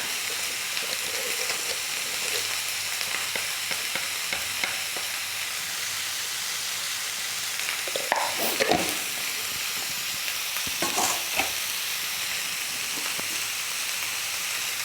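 Shredded cabbage, salted and seasoned with red chilli powder and turmeric, stir-fries in a pan for a veg spring roll filling: a steady, even sizzle runs throughout, with a few scraping stirs in the middle, and no talk.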